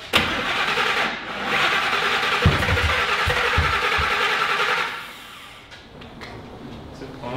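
A tow truck engine with badly off timing cranks repeatedly for several seconds without catching, then the cranking stops and quieter clicks and handling noises follow.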